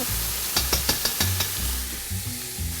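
Rabbit pieces and mustard being stirred in a sizzling pan, with five or six sharp scraping strokes early on over a steady frying hiss that settles toward the end.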